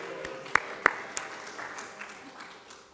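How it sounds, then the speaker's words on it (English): A congregation at a church service claps in a soft, steady patter of applause, with a few sharper claps standing out early, spread across the room and fading gently. "A cheer for Robin."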